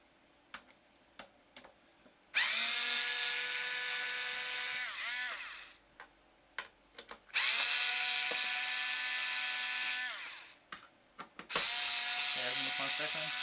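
A powered screwdriver whines in three long bursts while screws are removed to open an Xbox 360 console, with light ticks and clicks in the quiet gaps between bursts.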